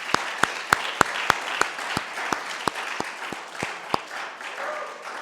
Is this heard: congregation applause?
yes